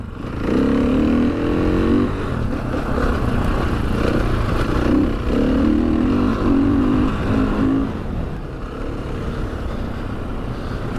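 A KTM 500 motorcycle engine revs up and down close by, loud buzzing bursts rising and falling over a constant running drone.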